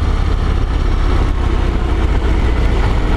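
A 2020 Harley-Davidson Road Glide motorcycle under way, its engine a steady low drone buried in a loud, constant wind roar heard from the rider's position, with no speech.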